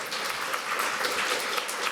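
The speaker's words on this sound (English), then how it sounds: "Let's give them another round of applause." A dense, even burst of applause from an audience for the panelists at a fair housing event, loud and continuous for the whole moment.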